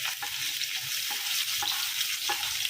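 Green chili, garlic and onion frying in a hot pan, a dense continuous sizzle with a few light stirring knocks, close by and steady, without speech.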